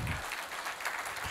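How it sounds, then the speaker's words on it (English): Short burst of audience applause at a conference session, dense, even clapping from a room full of people that carries on steadily from start to end. "So, you can applaud."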